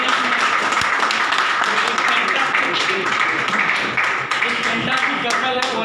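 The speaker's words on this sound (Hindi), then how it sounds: "एक बार जोरदार ताली हो जाए" An audience at the opening of an education centre gives a loud round of applause for a guest, dense continuous clapping throughout with a slight dip near the end.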